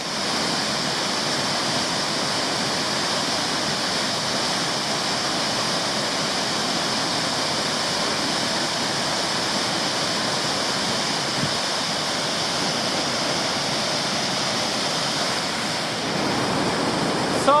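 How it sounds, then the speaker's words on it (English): Wellington Falls in Tasmania roars as a continuous, loud broadband rush of falling water heard from its base, steady and unbroken throughout with no voices. "So I'm at the very noisy base of Wellington Falls now."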